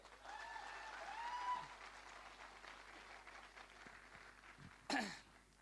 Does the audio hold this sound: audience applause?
yes